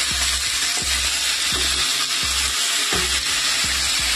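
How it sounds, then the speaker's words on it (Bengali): Chopped potatoes added to lightly fried onions in a pan sizzle steadily, with a rhythmic series of scraping stirs, close and loud with no talking. "টুকরো করে রাখা আলুটা আমি এখানে দিয়ে নিলাম।"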